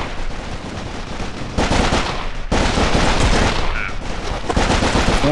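Gunfire in a shooting video game rattles in rapid automatic bursts, loud and dense throughout, with heavier volleys in the second half and no voices.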